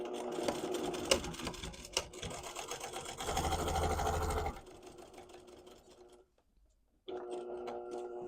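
Sewing machine topstitching a quilted tote bag with Flex Foam an eighth of an inch from the edge, running in steady bursts with a brief pause and short silence before resuming close by.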